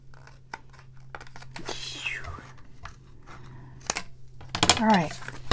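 Scissors snip through a paper craft tag in a few close, crisp cuts, with paper rustling and crinkling between them and a soft voice murmuring nearby.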